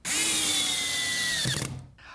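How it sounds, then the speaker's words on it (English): A power drill bores clearance holes into a wooden ledger for a decorative plate rail shelf, a loud steady high whine held close up that winds down and stops, with no talking. "The shelf is attached by drilling clearance holes into the ledger, and then installing screws directly into the wall studs"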